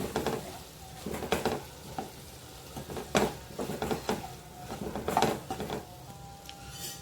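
Cauliflower sabzi with grated coconut and coriander being stirred in a pan: repeated scraping strokes of a spoon against the pan over a soft, steady sizzle, close and fairly loud, no talking.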